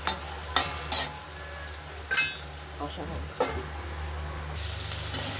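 Masala fries in a covered pan with a steady, close sizzle, broken by a few sharp metallic clanks of a utensil or lid against the pan.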